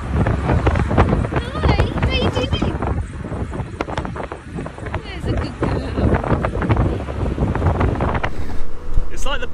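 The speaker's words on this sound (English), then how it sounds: "it's a bit windy" Steady wind buffets the microphone with rumbling gusts while riding in an open Moke beach car, people talking nearby and its engine humming underneath.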